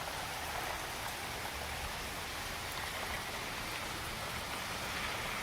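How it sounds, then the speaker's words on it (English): Steady rain falling, a continuous, even hiss of drops with no breaks, fairly faint and distant, with no talk over it. "the rain started right after I uncovered this"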